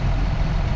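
A farm tractor engine idles with a deep, steady low rumble, close and loud, in one brief continuous stretch.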